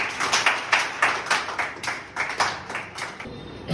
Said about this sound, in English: Clap for Ronald.